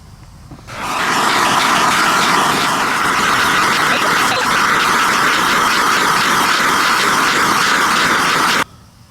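A steady, loud hissing roar of a gas torch heating metal on a KTM 300 motorcycle engine, starting abruptly, holding constant for several seconds, then cutting off.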